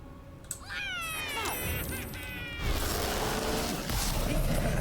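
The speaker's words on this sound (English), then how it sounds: "Oh, it's one of those cats!" A cat in the Baldur's Gate 3 video game meows in several drawn-out, wavering, pitch-bending cries, loud and close over a steady game background ambience.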